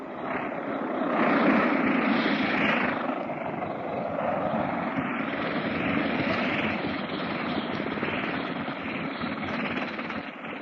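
A propeller airplane engine drones steadily and fairly close as the plane taxis along the ground, a continuous rumbling hum with no speech, used as a sound effect in an old radio drama.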